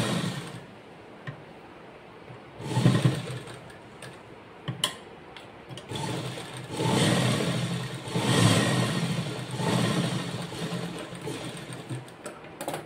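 Sewing machine stitching a folded, layered lehenga fabric, running in uneven bursts with a fast ticking needle rhythm, close and fairly loud, stopping and starting between runs.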